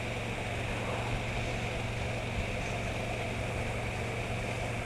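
KTM 1290 Super Duke GT motorcycle from 2020, trickling along in third gear at about 30 mph: a steady, even low engine drone with constant wind rush, no talk.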